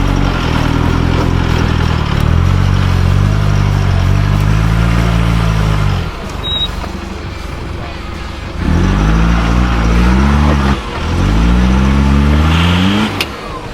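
An off-road car climbs a bank on a rough track at slow, controlled speed, its engine loud and close, droning and rising in several revving surges with brief easing in between; a voice talks over it.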